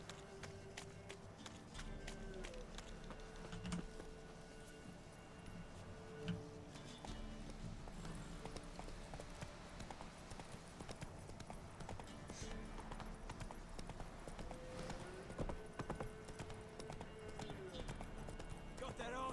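Hooves clip-clop as the horse Roach gallops in The Witcher 3 video game, a steady quiet rhythm continuing under game music and ambient sound throughout.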